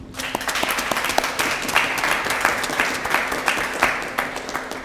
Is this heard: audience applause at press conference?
yes